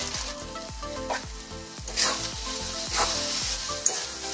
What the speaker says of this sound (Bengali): সেই জন্য আরো 5-7 মিনিট এটা ভাজা ভাজা করতে হবে।